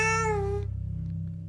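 A cat gives one clear, close meow that rises and then slides down before stopping, followed by a low, steady hum with no voices.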